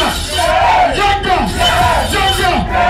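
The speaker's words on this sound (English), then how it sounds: "a round of applause for Yerina" A crowd cheers and yells loudly at a live event welcoming a performer, with raised voices whooping over a continuous roar that stays dense and steady throughout.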